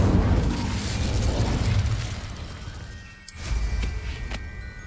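An Incendio fire spell in Hogwarts Legacy bursts out with a loud roaring whoosh, a dense crackling rush that dips briefly before a second sharp burst and a fading hiss.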